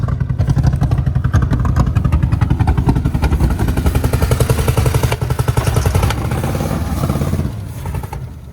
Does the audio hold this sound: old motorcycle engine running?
yes